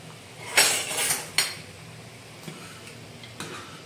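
Ladle stirring food in a metal pot, a few sharp clinks and scrapes early on, then quieter occasional taps against the rim, close up with no talk.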